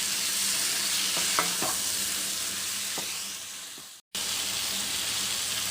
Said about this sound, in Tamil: இப்போ எறாவை ஆட் பண்ணலாம்.